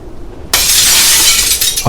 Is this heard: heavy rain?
no